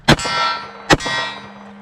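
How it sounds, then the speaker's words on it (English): Two .45 ACP pistol rounds hit an MGM steel coyote silhouette target, producing two bright, sharp clangs under a second apart, each trailing off in a sustained metallic ring, with no voices. "Let's try the MGM coyote."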